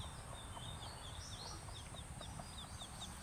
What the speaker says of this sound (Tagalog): Kakainis talaga yung mga manok niya.